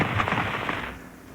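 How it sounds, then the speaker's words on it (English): Grenade blast in a wartime TV drama, a short sharp crack with a brief rumbling decay lasting about a second. "It's a grenade."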